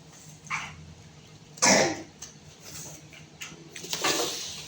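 Several coughs and throat-clearing bursts from a person, close and fairly loud, spaced over a few seconds with quiet gaps between them.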